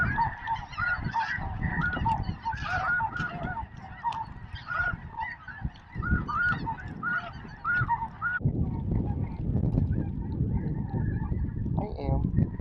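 A large flock of snow geese honks and calls nearby during a hunt, giving a continuous overlapping chorus that thins and fades partway through, with low rumbling and wind noise underneath.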